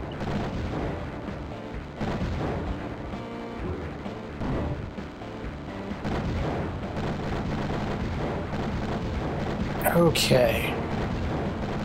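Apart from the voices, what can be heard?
many missiles firing and exploding in a video game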